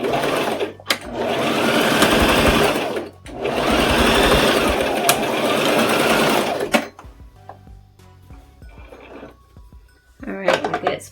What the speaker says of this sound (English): and you're going to sew across.